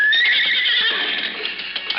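A horse whinnies loudly and close, one drawn-out high neigh that wavers and fades over two seconds, with faint clip-clop beneath and no voices.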